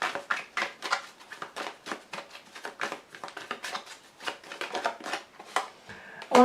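Tarot cards are shuffled and laid out close by, giving a quick run of crisp riffling and slapping bursts in an irregular rhythm.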